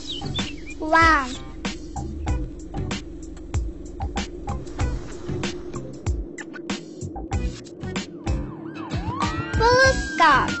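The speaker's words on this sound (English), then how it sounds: "Police car." Police car siren from a children's vehicle sound series, wailing up and down in bursts among other layered effects, fairly loud and close.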